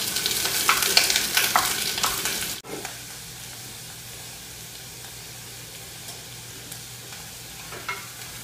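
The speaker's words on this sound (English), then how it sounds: "So just break these up and saute them until they have caramelized." Onions and a small bay leaf sautéing in oil in a pan, a loud, busy sizzle with stirring clatter for the first few seconds, then dropping abruptly to a quieter, steady frying hiss.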